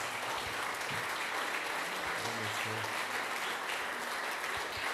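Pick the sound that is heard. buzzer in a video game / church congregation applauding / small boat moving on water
church congregation applauding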